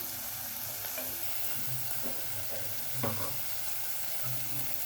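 Dal is poured into a fried tomato-onion masala in a pan and stirred, giving a steady close sizzle with soft scraping and a few louder splashy stirs. No one speaks.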